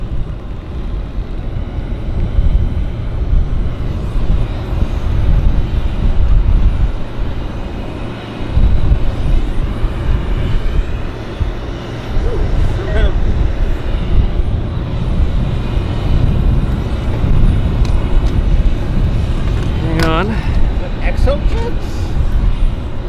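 An aircraft on final approach to a runway at Vancouver International Airport (YVR), a steady broad engine roar at moderate distance holding throughout, with faint distant voices at times.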